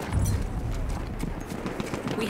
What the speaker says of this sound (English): The guy driving the horse.